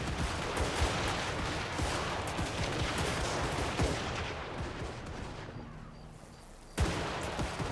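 Dense, continuous volleys of musket-style gunfire from a Total War: Warhammer 3 battle, many overlapping shots crackling at a distance, with a lone sharper report near the end.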